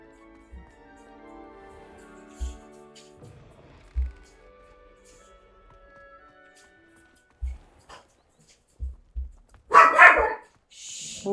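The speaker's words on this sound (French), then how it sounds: "J'ai un chien de garde de 20 cm de haut qui se prend pour un pitbull." Tiny guard dog, about 20 cm tall, gives scattered sharp barks, a few single yaps with pauses, then a louder burst of excited barking, heard over quieter background game sounds.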